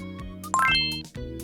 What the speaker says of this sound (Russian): звук при нажатии кнопки под внешним дисплеем